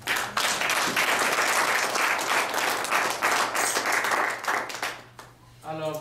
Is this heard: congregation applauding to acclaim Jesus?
yes